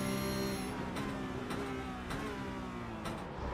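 Porsche Cup race car in the iRacing game, heard on-board as a loud, high engine whine that drops in pitch as it shifts down, several sharp gear changes in quick succession, with no voices.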